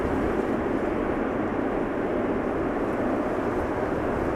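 A broadband, constant roar from an Etihad airliner arriving at Amsterdam Schiphol Airport fills the clip, loud and unbroken with no voices over it.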